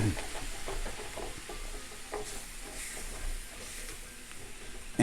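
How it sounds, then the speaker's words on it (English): White wine hitting a hot pan over high heat with stirring, producing a soft, steady sizzle and hiss with faint scraping, fairly quiet and continuous. "So let's add our white wine. We'll turn up the heat all the way. That's exactly what you want to hear."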